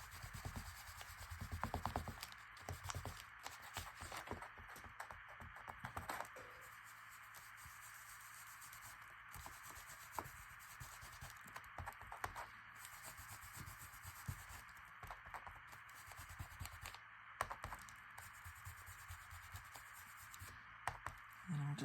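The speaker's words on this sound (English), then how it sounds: "I'll just rub off some of that darker ink." Dark ink being rubbed off a paper junk journal page, a soft close scrubbing and rubbing in repeated short strokes, with quieter pauses between bursts of friction.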